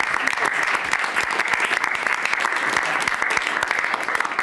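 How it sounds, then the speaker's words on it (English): Members of the press break into dense, sustained applause at a White House cabinet meeting, with many hands clapping steadily and loudly throughout. "The press actually broke out in applause."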